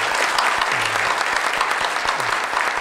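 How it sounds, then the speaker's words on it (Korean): A large audience at the opening ceremony of the 2015 Seoul Humanities Forum bursts into sustained, full applause, a continuous close wash of clapping with a few faint voices underneath. "여러분 자신을 위해서 박수 한번."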